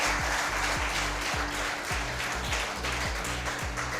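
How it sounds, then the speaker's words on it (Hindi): Steady rhythmic clapping from an audience of students at an engineering coaching class event, many hands together filling the room continuously. "जोरदार तालियां बजती रहनी चाहिए।"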